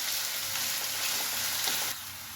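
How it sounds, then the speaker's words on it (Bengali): Potatoes fry in a little oil, a soft but steady close sizzle that drops slightly in level near the end, with no one speaking. "এইভাবে এবার আলুটা যখন একটু ভাজা ভাজা হয়ে যাবে তখন এর মধ্যে মশলাটা দিয়ে দেব"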